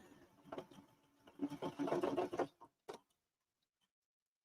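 A home embroidery machine stitches an applique onto a baby onesie, giving a rapid, close mechanical stitching chatter in bursts that stops abruptly, followed by near silence and one brief click.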